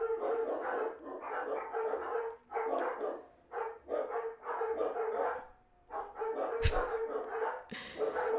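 Several dogs bark in repeated bursts through the whole stretch, loud and fairly close, with brief pauses between volleys and occasional yips, with nobody talking.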